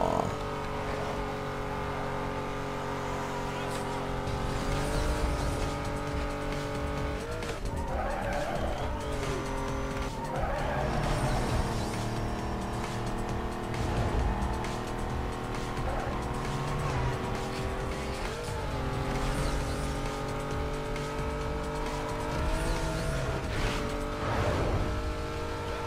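Race cars, including an Audi, roaring and screeching through corners in Need for Speed Most Wanted, engines rising and falling continuously with repeated loud tire squeals and skids over a long stretch.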